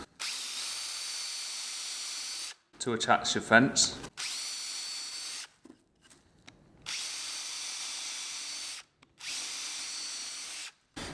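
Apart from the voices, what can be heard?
power drill drilling holes in wood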